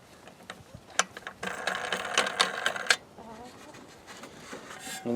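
A nut is spun and threaded onto a fitting in a goat water system, giving close, quiet metallic clicks and ratcheting rattles, with a busier burst of clicking in the middle before it settles.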